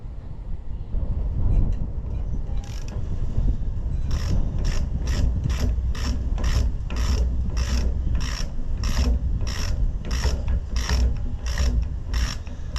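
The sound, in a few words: ratchet turning bolts on Allis-Chalmers WD tractor engine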